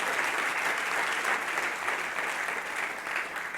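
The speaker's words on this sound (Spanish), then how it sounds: "Fuerte el aplauso al Señor" A church congregation applauding during a Spanish-language service, with loud, dense and continuous clapping that fills the room without a break.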